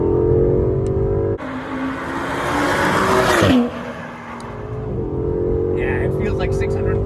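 A 630-horsepower supercar launching hard on a track, its engine note climbing loudly through a shift and easing off, with faint tire squeal and talk in the cabin.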